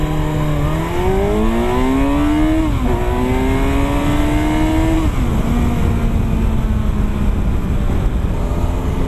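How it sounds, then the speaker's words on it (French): A Kawasaki Versys 1000 motorcycle makes a full-throttle standing start to 100 km/h. The loud engine climbs in pitch through three quick gear changes, each marked by a short dip before it revs up again. "Allez, un petit départ arrêté 0-100 km/h à bloc."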